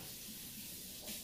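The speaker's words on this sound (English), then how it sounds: "you'll take a spray bottle and you'll spray the paper" Water is sprayed from a spray bottle onto paper in a short soft hiss. A brief louder puff comes near the end.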